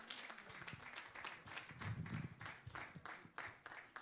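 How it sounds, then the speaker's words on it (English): Audience applause welcoming a keynote speaker at a creative summit, a fairly quiet wash of clapping from a crowd, steady throughout with faint low rumble beneath. "A round of applause for him, please."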